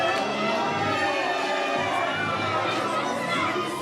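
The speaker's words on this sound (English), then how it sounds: "You could see the crowd getting on either side of the aisle." A wrestling show crowd roars and chatters steadily with scattered shouts, a dense, continuous wash of many voices filling the hall.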